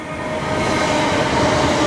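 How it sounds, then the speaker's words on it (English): A train passes behind a station on Birmingham's Cross City Line, giving a loud, continuous rumble and rolling rail noise that holds steady throughout, with no voices. "There's a train behind me."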